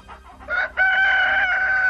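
Chickens cluck in short bursts, then a rooster lets out a long, loud crow close by.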